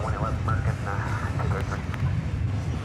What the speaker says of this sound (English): So the parade of giant aircraft continues.